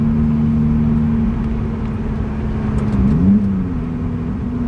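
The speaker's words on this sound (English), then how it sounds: "for a little 4-cylinder, it sounds pretty good" A small four-cylinder car engine drones loudly from inside the cabin, its pitch rising and falling as the revs climb and drop through rev-matched downshifts.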